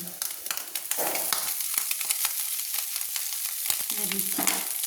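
Boiled chowmein tossed with egg in a hot pan sizzles loudly and crackles, with repeated scraping stir strokes and clatter of a spatula close up.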